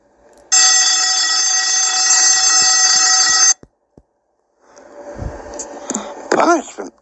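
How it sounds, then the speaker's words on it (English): A punishment alarm bell rings loudly and continuously for about three seconds, then cuts off, followed by a few knocks and some voices and noises. "Punishment alarm bell."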